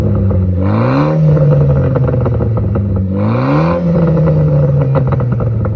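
A Renault Clio 4 RS Trophy engine revs up twice, each sharp rise in pitch followed by a slow settle back toward idle, loud and close, outdoors.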